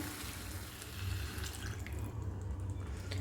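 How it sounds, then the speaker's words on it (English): Water runs steadily for a few seconds with a splashing, filling sound, poured into a cooking pot of chicken and bamboo shoot, close by. "Add some water"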